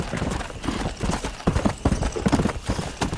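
Horse hooves clip-clop in the Red Dead Redemption video game, a steady trotting patter of hoofbeats close by, continuous through the moment with game ambience and no speech.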